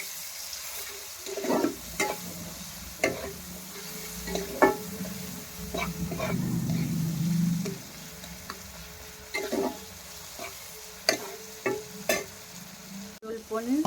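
Pointed gourd and paneer curry sautés with a little chili powder, a continuous pan sizzle under repeated spatula scrapes and taps at an irregular rhythm, close and without speech.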